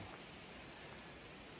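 Steady rain falls on the Appalachian Trail in cold weather, a dense, even hiss of drops spread across the whole clip with no voices.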